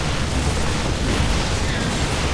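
Siege tanks firing and explosions in StarCraft 2 battle, a dense continuous roar of blasts and rumbling impacts, loud and unbroken.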